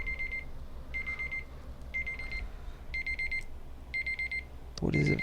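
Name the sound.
alarm clock ringing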